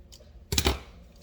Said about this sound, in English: get your kitchen scissors and cut that bag